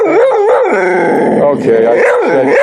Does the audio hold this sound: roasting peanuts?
no